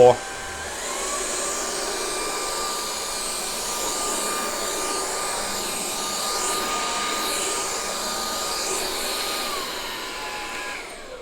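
A Xiaomi Mijia Lite cordless vacuum cleaner runs loudly and steadily on turbo, a constant whirring roar with a high whine, starting abruptly and continuing without a break.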